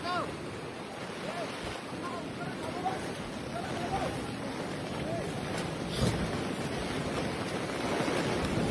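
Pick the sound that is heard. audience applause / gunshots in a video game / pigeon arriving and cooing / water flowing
water flowing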